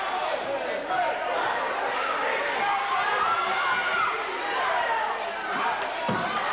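Gym crowd at a 1983 high school basketball game between Beechwood Academy and Flint River Academy, a steady roar of murmuring and raised voices reacting to a no-foul call, with a sharp thump near the end.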